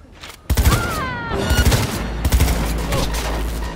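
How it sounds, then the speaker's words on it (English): Gunfire rings out in Cyberpunk 2077 on Xbox Series X: a sharp shot, then dense bursts of rapid automatic fire with ringing tails that continue through the clip, loud and close. "Heard shots."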